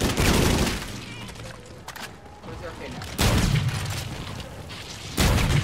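An automatic shotgun firing in the Infinite Warfare Zombies video game, with a few heavy, booming bursts that each spread into a long, loud wash of blast noise, alternating with quieter stretches.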